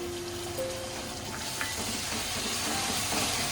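A medium tomato's worth of tomato paste cooks into ginger-garlic masala in a pan, giving a soft, even hiss and low sizzle that holds steady throughout without breaks.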